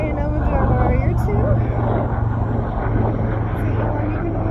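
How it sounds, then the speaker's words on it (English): A helicopter passes over a park in a steady, loud engine and rotor drone that fills the whole moment, while a voice speaks over it. "Helicopter going by."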